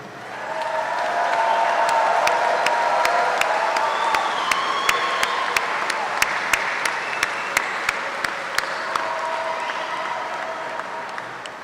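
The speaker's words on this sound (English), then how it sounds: "Graduates, please rise and applaud all of those who have supported you." Swelling applause with some cheering fills a university commencement hall as graduates of the Columbia Southern University class of 2018 stand and clap, a broad crowd roar with a few sharp individual claps standing out, gradually easing over the final seconds.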